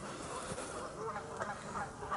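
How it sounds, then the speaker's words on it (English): Ducks quack by a lake at a mountain park, faint and somewhat distant over steady outdoor wind and background noise. "Okay, so there are ducks"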